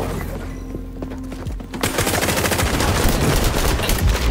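Gunfire in the shooter XDefiant: after a quieter start with a few separate shots, sustained loud automatic firing rattles continuously for the remaining seconds, with no talk over it.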